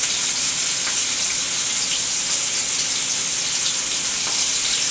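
Pork chops and onions frying in a pan give a steady, loud sizzle that runs evenly throughout, with a few faint crackles and no voices.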